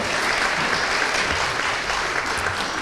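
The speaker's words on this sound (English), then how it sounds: "Will you give the candidates a round of applause for their opening comments before we get into the substantive talk?" Steady audience applause for candidates at a city council debate in Allentown, a dense, even wash of many hands clapping at once that holds loud throughout, with no talking over it.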